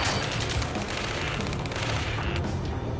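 Sustained video game battle gunfire, with dense overlapping automatic bursts and shots rolling continuously and loudly without pause across a chaotic firefight.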